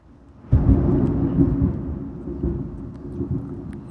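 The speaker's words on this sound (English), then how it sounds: "that's a big thunderstorm right there" A big thunderstorm: a sudden crack of thunder breaks in, then a long deep rolling rumble that slowly fades over several seconds, heard alone.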